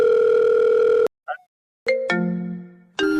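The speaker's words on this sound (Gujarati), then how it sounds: "એ ભાઈ ફોન વાગ્યો ફોન ઉપાડો" Telephone ringing with electronic tones, a long steady tone, a short gap with a brief blip, then a series of stepped tones that fade before another starts.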